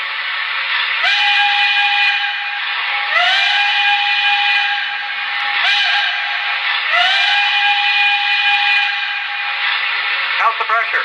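A model steam locomotive whistle from an Empire State Express train set sounds in four long, shrill, steady blasts with rising starts and hissy edges, loud and close, alone without talk.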